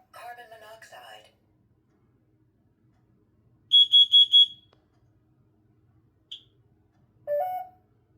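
Home smoke and carbon monoxide alarm during a self-test: a spoken voice prompt, then a loud piercing triple beep pattern, a single short beep, and another voice prompt, with quiet gaps between.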